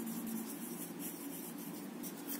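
Steady scratchy rubbing of a pen on paper, written by hand while working out a class 7 mathematics perimeter problem, continuous and fairly close with no talking.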